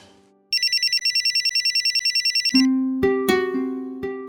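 A telephone ringtone plays loud and close, first as a rapid trilling electronic ring, then switching to a louder melodic tune of repeated notes, with no talking.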